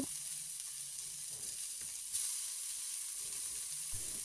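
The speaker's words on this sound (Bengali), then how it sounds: "এখন এর মধ্যে কুচি করে রাখা বাঁধাকপি কুচিগুলা অল্প অল্প করে দিয়ে দেব" Chopped cabbage sizzles steadily in a hot pan for a Bengali cabbage bhaji, a continuous close frying hiss with a brief swell partway through and faint stirring.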